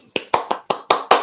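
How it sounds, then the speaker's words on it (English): Six sharp hand claps from a live audience at a small gig, each a crisp broadband burst, spaced irregularly over about a second, fairly close and with no talk over them. "there's been a clap"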